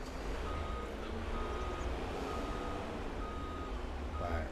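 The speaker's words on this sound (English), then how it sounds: "let me just reverse this here so it's out of the way" A truck in a forestry video game slowly reversing, its backup alarm beeping steadily and faintly over a loud, constant low diesel engine rumble, with no talk.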